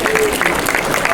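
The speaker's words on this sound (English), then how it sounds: "Clap it up and clap it up if you're a couple." Couples in a comedy club audience at the Funnybone clap, a short burst of scattered applause mixed with crowd murmur and voices.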